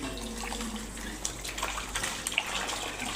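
Tap water runs steadily into a sink or basin while ripe mangoes are washed clean in a home kitchen, a continuous close splashing wash with a few small drips and clinks, no talking.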